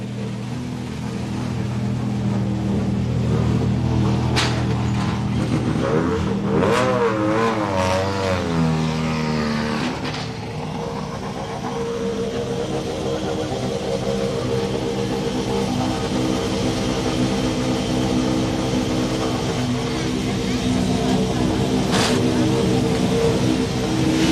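A Volkswagen Polo rally car sits on the start ramp at the Donegal International Rally, its engine idling then blipping through several sharp revs, loud and close, settling back into a steady rumbling idle amid a crowd's background hum.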